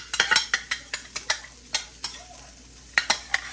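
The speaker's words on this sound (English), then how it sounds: "Perfect for stir frying." Cold leftover rice sizzles in a hot skillet while a utensil stirs it, making a quick irregular series of scraping clicks against the pan.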